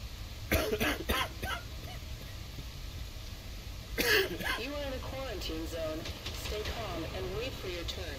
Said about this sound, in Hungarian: Jó, hát csak köhög igazából.